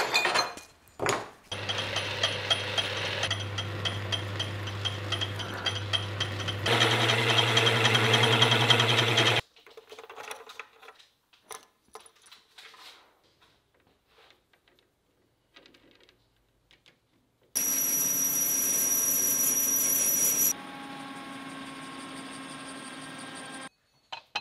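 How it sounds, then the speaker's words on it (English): A drill bores a pivot hole in a part for an arm-mounted power claw, ready to take a bronze bushing. Loud steady whirring comes in several bursts of machining with quiet gaps between them, and no one speaks. "I'm just about to drill this pivot hole and I'm going to use some of this bronze as a bushing"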